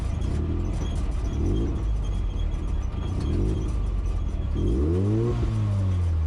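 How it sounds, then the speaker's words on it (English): A Triumph GT6+ with a newly fitted exhaust system drones steadily at low revs from inside the car, a deep continuous rumble with slow rises and falls in engine pitch. "down in the lower RPMs, definitely get a droning going on"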